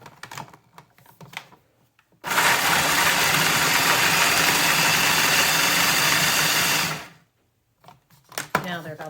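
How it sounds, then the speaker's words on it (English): Blender chopping walnuts for an energy bar, a loud whirring grind of about five seconds that stops abruptly, with a voice talking just before and after. "the walnuts I'm going to blend first since they are such bigger chunks"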